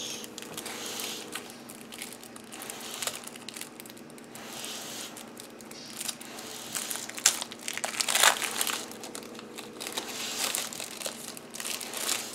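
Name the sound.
unwrapping packs of game cards, crinkling wrapper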